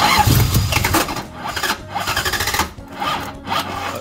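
A Toyota Celica with a swapped-in 1UZ V8 cranks loudly and close by. The starter churns in a rapid, uneven rhythm for about four seconds.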